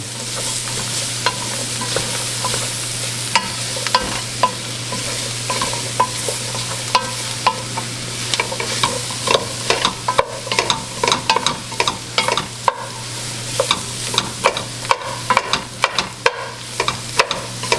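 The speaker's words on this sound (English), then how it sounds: "Going to add garlic. Stir that around and get it all mixed up nicely." Garlic sizzling in a seafood gumbo pot with the Holy Trinity over an open fire, stirred with repeated sharp scrapes and clacks against a steady frying crackle and a low hum, growing busier toward the end.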